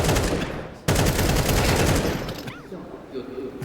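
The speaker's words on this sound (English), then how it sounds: "Excellent rifle work from Descenti." Dense rifle fire in a professional Counter-Strike match, a rapid, loud burst of shots rattling for about two seconds, then scattered quieter effects and a faint voice.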